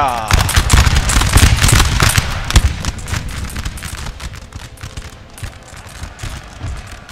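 Infantry musket volley fire in the video game Napoleon: Total War, a loud crackling burst of many overlapping shots that thins into scattered pops and fading rattle, with a voice talking over the gunfire.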